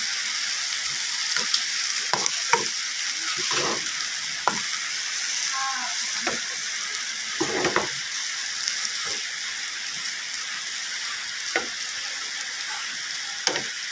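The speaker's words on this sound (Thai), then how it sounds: "แล้วก็ผัดให้เข้ากันนิดหน่อยนะคะ" Bamboo shoots stir-fried with egg and seasoning crackle in a hot pan, a dense continuous sizzle with repeated scraping and tossing strokes of a spatula, close and fairly loud, with no voices.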